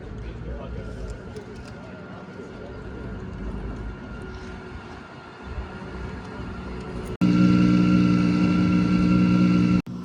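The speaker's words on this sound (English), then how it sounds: "So that noise you can hear in the background is the Gordon Murray T50." A Gordon Murray T50 supercar's engine drones steadily in the distance on a race track under people talking, then swells into a much louder, tonal blast for a few seconds before cutting off.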